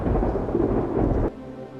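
Rain and thunder from the horror video game Lost in Vivo, a heavy rumbling storm with pouring rain that cuts off abruptly partway through, leaving a faint hum.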